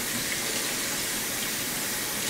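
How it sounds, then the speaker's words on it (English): Water gushes steadily from a tap into a test of Sugru moldable glue, a continuous close, loud broadband rush with no talk. "So the water going in."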